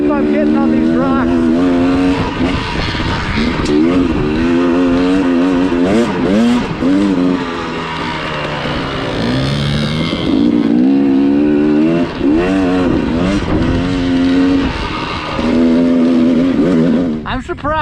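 A 1974 Husqvarna 250WR two-stroke motorcycle rides over dry, slick rocks, its engine revving loud and close in constant rising and falling bursts, with a rider talking over it.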